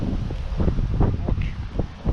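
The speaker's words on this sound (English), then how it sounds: "Wind's a bit windy today." Gusty wind buffeting outdoors in a garden where sweet corn is being planted out, rumbling continuously with rising and falling puffs close to the microphone.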